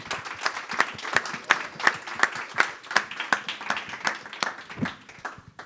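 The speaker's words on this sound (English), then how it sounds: "give a big round of applause to our writers" An audience applauds a group of writers with steady, even clapping at a moderate distance, holding a continuous rhythm with no voices over it.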